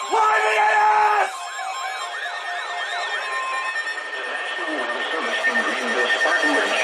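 An Emergency Alert System broadcast for a flash flood warning: a harsh two-tone attention signal, then warbling electronic tones, followed by a steady background hum.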